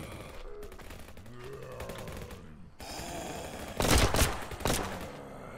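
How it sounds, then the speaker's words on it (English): Bursts of assault rifle fire from the zombie-apocalypse shooter game Fallnation, a steady crackle of game gunfire that swells into two loud, sharp volleys near the end, with no voices. "Obviously, a lot of assault rifles going off is very loud."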